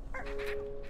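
Chickens in the video game Slime Rancher 2 give a short, close burst of honking, clucking calls lasting under a second, with no talk over them.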